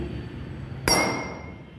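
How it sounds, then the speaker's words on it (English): The end of a spoon strikes a glass holding a larger amount of water, giving one sharp, bright clink that rings on and slowly fades over a quiet background. "Now I am going to hit this using the end of the spoon."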